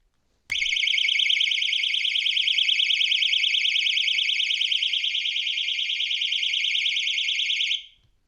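A 130 dB AAA-battery personal alarm suddenly shrieks on, a piercing warbling siren held loud and steady for about seven seconds, then cut off abruptly.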